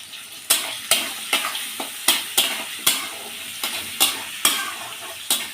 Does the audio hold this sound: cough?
no